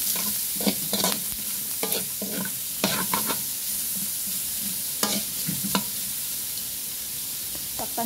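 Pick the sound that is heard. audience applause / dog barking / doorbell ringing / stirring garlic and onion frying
stirring garlic and onion frying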